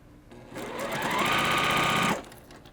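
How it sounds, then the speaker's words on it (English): A sewing machine runs steadily for about a second and a half, stitching quilt block pieces together, with a close, even motor whir that starts and stops cleanly. "Now I'm going to sew these two together and then add the third row."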